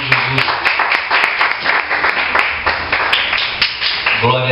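A church congregation applauds together: steady, dense clapping from many hands fills the room for several seconds, with a faint sung or spoken tone underneath.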